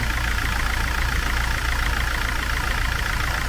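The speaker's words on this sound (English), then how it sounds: "I just wanna hear, see if I can hear this alternator" The engine of a Sprinter camper van idles close by in a steady, even drone, with a continuous high whine from the alternator above the low rumble and no voices.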